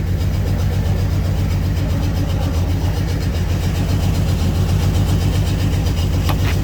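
An auction-find car idles close by with a low, rumbling exhaust note, a steady throbbing drone throughout with no talking.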